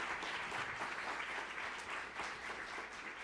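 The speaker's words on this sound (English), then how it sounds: "I would like again to give a big round of applause for Peter Maier" An audience in a lecture setting claps steadily after a talk on tax law, a dense, even wash of applause at moderate distance, briefly filling the room with no voices on top.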